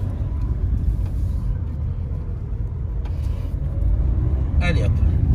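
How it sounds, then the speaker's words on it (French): A car pulls away in first gear as the clutch is gently released, giving a low, steady engine rumble inside the cabin that swells slightly toward the end, with brief faint clicks. "Je remets la première vitesse. Et je lâche doucement l'embrayage."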